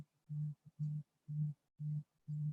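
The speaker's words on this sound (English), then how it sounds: "Some of these phones are ringing." A phone rings in a low, steady electronic tone repeated in five short even bursts with brief pauses, fairly faint and with no talk.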